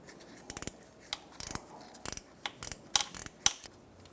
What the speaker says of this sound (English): Using a 13mm wrench, remove the bolt, the bottom bolt for the starter.